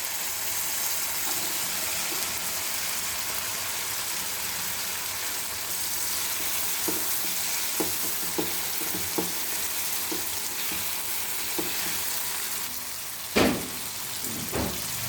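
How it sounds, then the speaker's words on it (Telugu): Field beans tipped into a hot cooking pan, giving a steady, broad sizzle throughout with faint stirring taps and one louder knock near the end, close and moderately loud with no voices. "దాంట్లో మనం అనపగింజలు వేసుకోవాలి."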